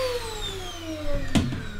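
A vacuum cleaner running steadily in the background with a whining motor tone that slowly drops in pitch, plus a brief clunk near the end, no voices.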